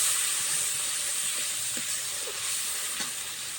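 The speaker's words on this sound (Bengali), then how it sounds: "এবার ভালো করে কষে নেবেন" Bata fish curry masala with turmeric sautéing in a pan gives a steady, soft sizzle and hiss, with a few faint scrapes scattered through.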